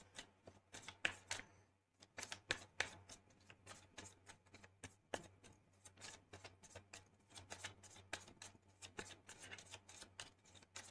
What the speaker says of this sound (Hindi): शफल कर लेते हैं कार्ड्स